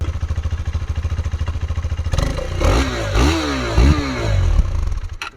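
A KTM 390 motorcycle idles with a steady thumping beat, then the engine revs sharply several times in quick, rising bursts before settling back down.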